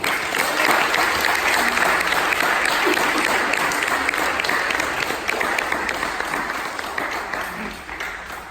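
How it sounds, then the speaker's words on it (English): Audience at a parish independence committee awards ceremony giving a rousing round of applause for four awardees, a full, continuous wash of clapping from many people that gradually fades toward the end. "give a rousing round of applause to our 4 awardees this evening"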